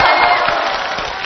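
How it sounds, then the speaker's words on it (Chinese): Studio audience on a Chinese television game show cheering and clapping, a dense, loud wash of crowd noise that holds steady across the short moment. "这边的掌声应该比他们更 热烈。"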